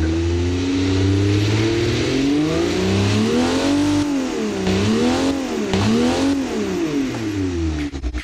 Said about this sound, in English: What looks like a Barbie Jeep engine, it sounds like a drag engine.